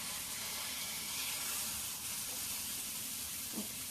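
A turkey burger patty cooking in a pan with no oil, heard as a faint, steady hiss with soft sizzle, fairly distant and even, with no talking.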